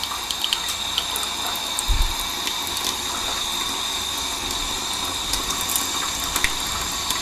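A sink tap runs steadily while paint brushes are being cleaned, water gushing into the basin in a continuous splashing hiss with a brief low thump partway through.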